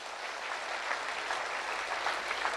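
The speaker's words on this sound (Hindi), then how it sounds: "उनके लिए भी एक बार जोरदार तालियां बजाइए।" An audience claps in steady, dense applause at a Safe Shop success event, heard somewhat distant and continuous throughout, with no voice over it.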